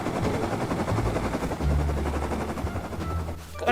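Rapid, dense video game gunfire rattles on continuously and loudly, with no voices.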